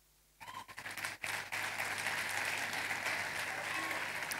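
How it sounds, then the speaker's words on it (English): A crowd applauds a sponsor on stage at an event, clapping that starts suddenly, builds and then holds steady as a continuous wash of sound, with faint voices mixed in. "A round of applause once again, please."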